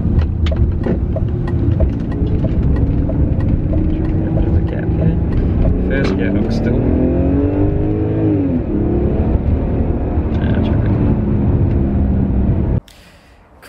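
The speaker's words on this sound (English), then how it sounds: "Give this thing a one cheeky motorway on-ramp pull" A manual BMW daily car accelerates hard up a motorway on-ramp, with a loud close engine drone and rising revs through the gears before the sound cuts off abruptly at the end.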